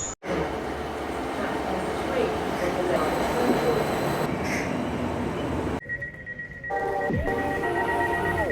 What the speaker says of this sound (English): I am now on a 197 up to Bridgend.